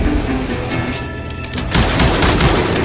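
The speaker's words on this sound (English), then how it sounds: "Robert Ollinger appeared with his terrible double-barrel shotgun." Double-barrel shotgun fire in the Call of Juarez Gunslinger video game, a dense wash of loud gunfire and booming blasts, heaviest in the second half with no speech.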